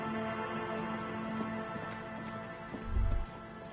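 Rain in the video game Disco Elysium falls as a steady, soft patter of drops, with a brief low thud near the end.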